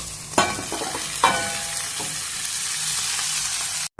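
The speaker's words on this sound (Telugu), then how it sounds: "సిమ్లో ఉంచి నిదానంగా కలుపుకున్నాము" A spoon turns cooked rice through fried brinjal pieces in a pan for vangi bath over low heat, giving a couple of sharp scraping knocks over a constant bright sizzle, with no talking.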